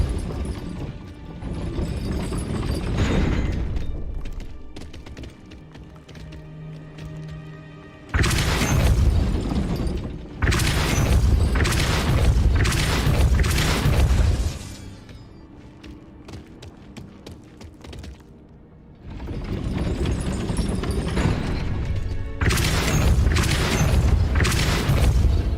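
In the Hogwarts Legacy video game, a Depulso spell raises a gate: loud booming, grinding mechanical bursts come in several heavy waves separated by quieter rumbling gaps.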